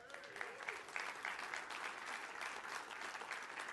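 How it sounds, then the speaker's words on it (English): Keynote audience applauding and cheering, a dense continuous patter of clapping hands filling the room at moderate distance. "We got people cheering in the background here."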